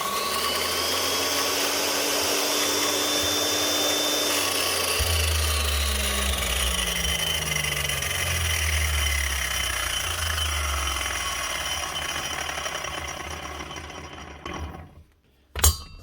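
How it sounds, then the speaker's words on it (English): A restored old Makita 9609B 9-inch angle grinder fitted with a new lead, brushes and bearings runs steadily at full speed with a loud, even whine. The whine fades slightly toward the end before a final clunk. "Old Makita 9609B, 9-inch grinder, up and running again."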